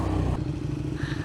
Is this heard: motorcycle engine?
yes